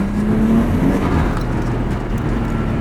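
A Nissan Skyline R33 with an RB25DET engine pulls under full throttle with its new coil packs, a loud, steady, rising engine drone heard from inside the car with no one talking.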